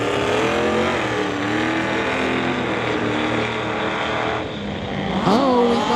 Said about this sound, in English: There he is, spooling up the turbo in the diesel.